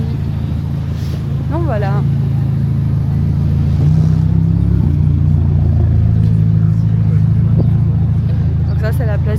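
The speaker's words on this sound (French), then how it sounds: "Vous avez une belle Ferrari ici." A Ferrari sports car engine idles and revs at Monaco's casino square, a loud, close, low rumble that swells briefly midway, while someone talks over it.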